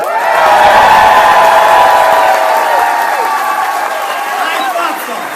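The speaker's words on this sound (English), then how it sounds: "I would love to hear the applause level for our Senator Michael Bennet" Large political rally crowd applauding and cheering for a U.S. senator, a dense sustained roar of clapping with whoops that swells loud early and stays strong, easing only slightly toward the end.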